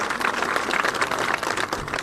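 Audience applause at a public meeting, a steady dense wash of many hands clapping throughout, loud and sustained without pauses.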